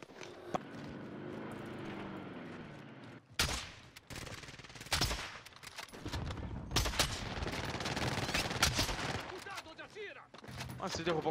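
Gunfire in a shooting video game: scattered single shots and rapid bursts of fire, some loud and close, others fainter, with players talking over the action.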